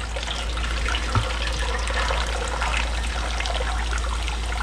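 Steady liquid trickling and dribbling as blood drains from a freshly culled chicken, a continuous close wash of sound with no talk.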